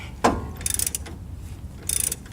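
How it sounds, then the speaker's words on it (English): A sharp metallic crack rings out near the start as a worn ball joint on a 2014 Jeep Wrangler breaks free, followed by two short bursts of rattling, ratchet-like clicks in a quiet setting. "that is the sound of the ball joint breaking free"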